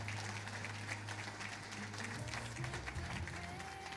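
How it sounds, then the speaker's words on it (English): At a livestock auctioneering awards ceremony, a faint round of applause from the audience patters steadily under low hum and a brief tone, with no speech heard. "let's give him a big round of applause"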